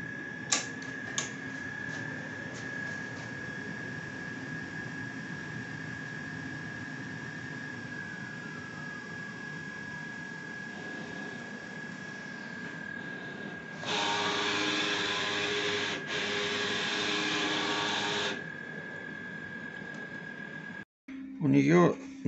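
Mutoh Valuejet printer with DX5 or DX6 heads running a nozzle test: a steady electronic whine under faint ticking, then a loud buzzing whir from the print carriage for several seconds, ending with a brief clunk.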